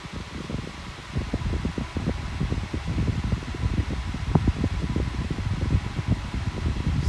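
A 1980s Salton Turbo electric fan runs steadily with a smooth motor, giving a close, continuous breezy whoosh with slight fluttering and no voices.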